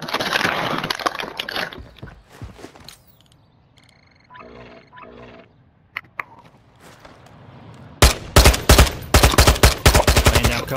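Rapid automatic gunfire and sharp shots from the DMZ video game, coming in dense bursts early and again in a loud sustained volley at the end, with quieter mechanical clatter between.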